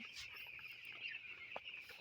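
Broiler chickens in a winter poultry house give a soft, continuous clucking and peeping chorus at low volume, with a brief louder burst near the end.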